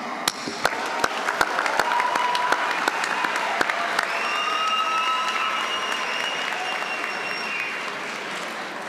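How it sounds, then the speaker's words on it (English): An audience applauds at a 2024 university graduation commencement ceremony, giving steady, moderately loud clapping that fills the hall for several seconds, with a few sharper, closer claps standing out and faint background murmur. "Let us share another round of applause for the great accomplishments."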